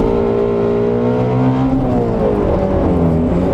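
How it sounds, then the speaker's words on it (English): A 2019 Ford GT350R with its Voodoo flat-plane V8 revving, a loud, throaty engine note with a rising and settling whine, close and sustained, with no talking. "You get to hear how throaty the V8 is."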